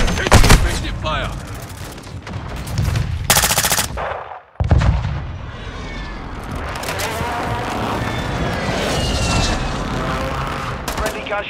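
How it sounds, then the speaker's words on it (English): Airstrike and gunfire from Call of Duty: Modern Warfare II, with dense bursts of automatic weapons and shots over rumbling blasts, a sharp cut near the middle, then a steady wash of battle noise to the end. "Friendly airstrike. Effective fire."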